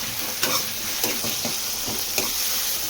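Two tomatoes sauté with shallots, fenugreek, curry leaves and green chillies in sesame oil for jilebi fish curry, a steady sizzle with a handful of spaced spatula scrapes, close with no talk.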